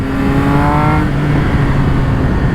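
Triumph Speed Triple 1200 RS motorcycle engine held loud and steady, its pitch rising then cutting cleanly around a quickshifter gear change into a continuous roar.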